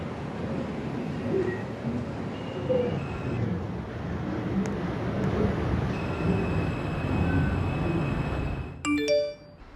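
New York subway 4 train bound for Woodlawn, steady interior rumble and rattle from inside the car, ending in a sharp clatter and a brief chime-like tone.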